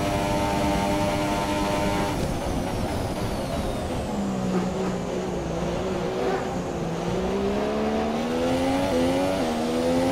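Formula 1 car engine in the F1 2017 racing game at Monza, a loud continuous high-pitched whine that shifts pitch as it accelerates, alone without talk.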